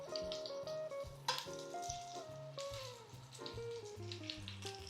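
Pork ribs sizzling and searing in a hot pan, a steady crackle beneath clanking kitchen sounds and a musical backdrop.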